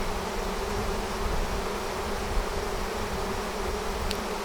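A swarm of honey bees hums in a dense, steady buzz at close range, with no voices over it.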